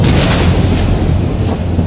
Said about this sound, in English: a fierce storm came up